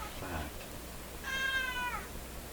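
A cat meows once near the microphone in a workshop where a vintage Polish Goplana tube radio is being repaired, a clear drawn-out call that rises and falls over a low steady hum.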